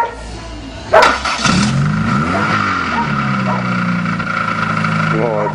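A Chrysler LeBaron convertible on a farm hits a puddle with a sudden splashing burst, then its engine keeps running steadily close by while people talk and a dog seems to bark.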